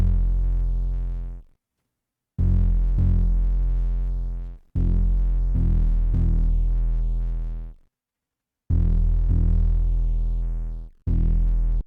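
Aggressive distorted bass pushed through a Fruity Fast Distort plugin, copying the bass notes of the track; loud, gritty sustained phrases in four bursts separated by short silences, with no talking.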